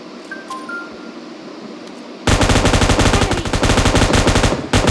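Rapid automatic gunfire in PUBG Mobile Lite breaks out halfway through after quiet ambience, loud and sustained with a steady fast rhythm.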